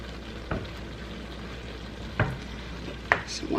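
An apple-flavored keto pecan filling simmers and sizzles steadily in a pan, with a few soft stirring scrapes and taps over the continuous bubbling hiss.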